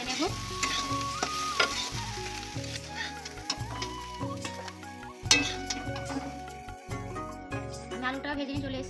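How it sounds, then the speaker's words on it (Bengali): Potatoes fry in oil while a metal utensil scrapes and clinks rhythmically against the pan, the repeated stirring strokes sitting over a soft sizzle, with background music playing throughout. "এবার আলু ভাজাটা আমি তুলে নেব"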